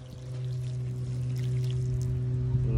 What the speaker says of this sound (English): That solution, we're gonna dump it out and see what happens to the hair.